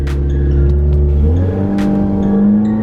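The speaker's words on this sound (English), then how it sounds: "we're gonna attempt our first dig off the button on our nitrous off the line" A nitrous-fed minivan launches hard off the line, its engine roaring loud and close with a rising rev and a shift partway through.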